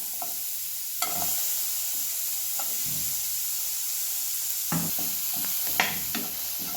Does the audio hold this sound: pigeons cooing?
no